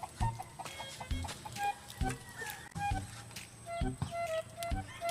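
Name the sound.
chickens clucking near the seaside cooking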